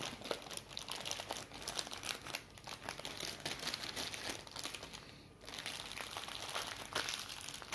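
A diamond painting canvas is folded by hand, giving close, continuous crinkling and crackling of stiff plastic-coated material that crumples and rustles without pause.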